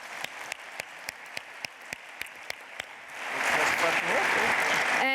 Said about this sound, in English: let's give the panelists a big round of applause